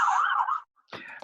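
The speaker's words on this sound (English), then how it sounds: "those sirens are showing off how intense this chemistry is right now" City emergency vehicle sirens wail loud and near, one sustained tone cutting off after about half a second, then a fresh burst starting up after a short gap.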